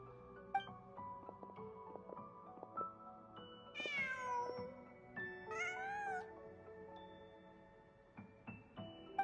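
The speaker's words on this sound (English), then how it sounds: "Just a cat." A cat in the Genshin Impact video game gives two drawn-out, rising meows, heard clearly over a quiet layer of sustained background music.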